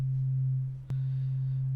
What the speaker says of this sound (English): This is a sine wave over here,